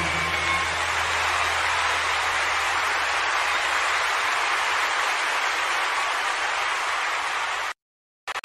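A crowd claps in dense, steady applause during a gospel worship service for several seconds before it cuts off abruptly into silence.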